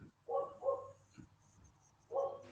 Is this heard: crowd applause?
no